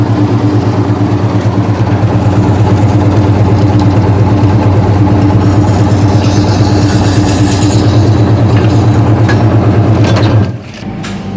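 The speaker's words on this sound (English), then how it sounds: "So this is a bread slicer." A bread slicer machine in a Norwegian store runs with a loud, steady mechanical drone and buzz while slicing a loaf, then cuts off abruptly near the end.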